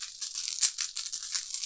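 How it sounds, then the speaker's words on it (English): A deck of playing cards is shuffled during a tabletop card game, a quick papery riffle of soft, rapid flutters and light rattles, close and continuous for under two seconds. "I shuffle these decks"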